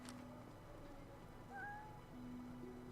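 A cat meowing in the video game Divinity: Original Sin 2, one short faint mew over quiet ambient music and a low background hum.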